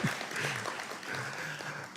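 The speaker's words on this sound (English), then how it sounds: "Sure, you can applaud that." A lecture audience applauds briefly, with moderate, slightly distant clapping and faint voices underneath.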